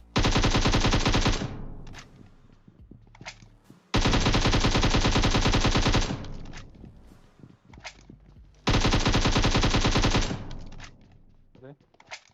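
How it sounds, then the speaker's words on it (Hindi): Automatic gunfire in PUBG Mobile comes in three long, loud sustained bursts, each a couple of seconds, separated by quieter gaps with scattered distant shots and footsteps. "लेकिन बंदा बॉट फायर दे रहा है।"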